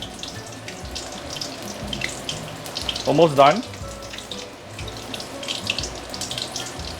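Pong pong prawn fritters deep-frying in a pot of oil give a steady, close crackling bubble that thins out as they crisp, with a brief spoken remark over it.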